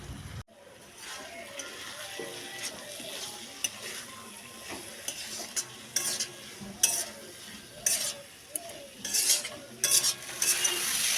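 Pre-fried potatoes being stirred into a sizzling spice paste for a katla fish curry, the pan crackling steadily under repeated scraping strokes of a spoon, with sharper clatters near the end.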